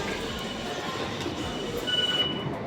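A Paris metro train at Montparnasse station rumbles and rolls along the rails with a steady roar, and a brief high-pitched wheel squeal near the end rises above the noise.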